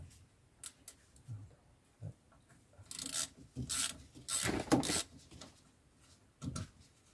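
A part on a Peugeot 106 being removed with a small Allen key, producing faint scattered metallic scrapes and clicks that come in short bursts with quiet gaps between.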